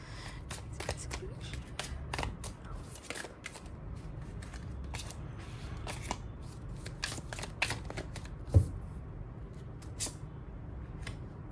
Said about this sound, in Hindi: तो आइए दूसरा कार्ड भी निकाल लेते हैं।